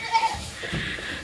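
Goat in an expanded goat pen with Angora goats, a single short bleat up close, quiet and brief.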